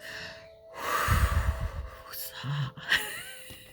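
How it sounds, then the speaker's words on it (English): A slow deep breath taken close to the microphone, a drawn-out inhale and exhale heard over a faint steady background hum. "Just want to take a deep breath now."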